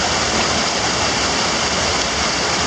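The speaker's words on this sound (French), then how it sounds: "Le ruisseau est en train de s'encaisser" A stream rushing through a narrow gorge between cliffs, a loud, steady, dense roar of churning water filling the whole clip with no pauses and no voices.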